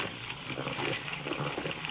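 Wet Lego parts whirl in a spinner, a fast steady rushing hiss of water and plastic, soft and continuous throughout.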